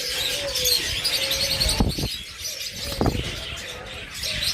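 A pair of pet American Yellow budgerigars calls among other cage birds, soft chirps and twitters over a steady chattering aviary background, with a couple of louder clicks.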